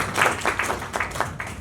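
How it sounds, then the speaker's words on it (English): Brief, modest applause from a small audience at a financial market conference, a handful of separate claps rising and fading over less than two seconds. "A round of applause for us"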